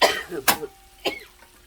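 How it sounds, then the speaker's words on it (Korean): A person coughs about three times in quick, close succession beside a stove where chili peppers are frying, each cough short and harsh. "이게 기침이 나와갖고"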